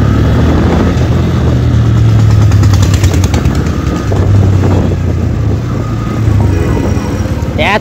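A Bajaj Pulsar N160 motorcycle rides through busy streets of Srirampur, its engine a steady low drone close by, heavily buffeted by wind noise throughout.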